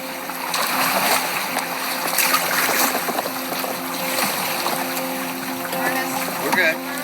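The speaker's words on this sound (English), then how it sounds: "Now paddle hard." Kayak paddles splash through the water of the Eleven Point River in the Ozarks at the start of an overnight float trip. Busy, continuous splashing and water noise stay close, and voices talk over them.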